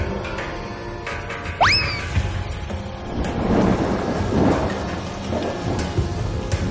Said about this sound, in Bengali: বাইরে তো দেখছি বৃষ্টি শুরু হয়ে গেল।